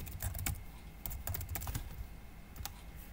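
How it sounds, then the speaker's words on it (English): A computer keyboard clatters with quick, close key taps while a URL is typed, a steady burst of clicks with short pauses between runs, heard alone without talking. "click on link, and type in the URL"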